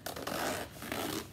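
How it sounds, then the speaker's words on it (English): A bag's zipper rasps along in a couple of short, scratchy pulls, close and fairly loud, with brief catches between strokes as it snags. "That zipper's not as smooth as they usually are."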